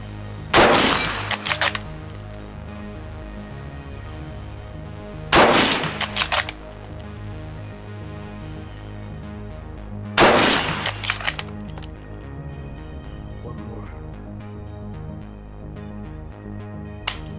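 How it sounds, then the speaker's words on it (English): Three loud, sharp rifle shots from a 1918-made Lee Enfield SMLE firing .303 British, spaced about five seconds apart outdoors, each followed by a short ringing echo and clatter against steady background noise. "That .303 British still hits with some real authority."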